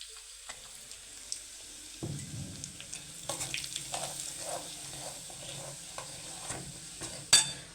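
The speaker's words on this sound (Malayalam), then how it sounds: "വെളുത്തുള്ളിയും ജീരകവും നല്ല പൊട്ടിക്കഴിയുമ്പോൾ നമ്മൾ മഞ്ഞൾപ്പൊടി ചേർക്കുന്നു." Garlic and cumin seeds fry and crackle in a pan for a dal curry tempering, with soft sizzling and repeated stirring scrapes that grow busier and end in a sharp clatter; no one speaks.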